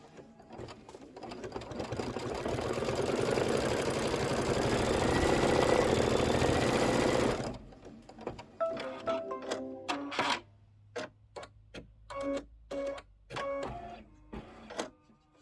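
Embroidery or sewing machine stitching a tack-down line on green fabric, a loud continuous mechanical run for several seconds, followed by short bursts of clicking and whirring as it stops and repositions.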